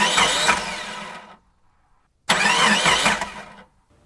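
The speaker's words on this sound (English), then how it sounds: "Casey quickly turned the key in the ignition." A car engine cranks twice without catching, each burst of whirring starter grind running over a second before cutting off into silence, loud and close.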